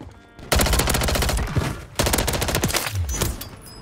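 Rapid automatic gunfire in an online shooter, loud bursts of quick repeating shots that stop briefly and then resume, with a few heavier reports toward the end.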